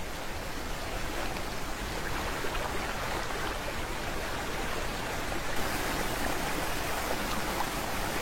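Bubbling river water runs over a shallow, low riverbed in a steady, close, continuous rush with no pauses and no voices.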